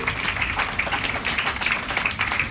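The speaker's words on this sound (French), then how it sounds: "On peut applaudir." An audience at an evening lecture-conference claps together, a steady spread of hand claps running throughout without pause and at moderate distance, with no voices standing out.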